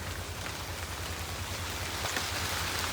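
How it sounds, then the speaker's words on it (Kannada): Heavy rain pours down in a steady, dense hiss that holds the same level throughout, with no voices over it. "ಗೈಸ್ ಮಳೆ ತಿರ್ಗಾ ಜೋರ ಐತೈತೆ ಗೈಸ್ ಇಲ್ಲಿ."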